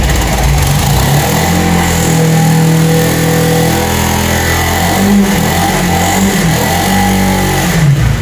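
Suzuki Inazuma GW250F motorcycle engine with an ignition coil fault and poor throttle response, revving loudly and steadily up close for several seconds with a rough, uneven pitch.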